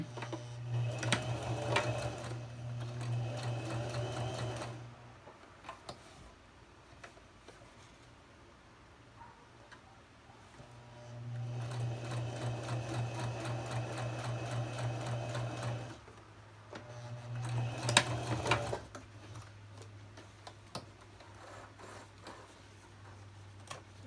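A home sewing machine runs white thread through a dress shirt cuff in three bursts of rapid, even stitching, separated by quiet pauses with faint handling sounds.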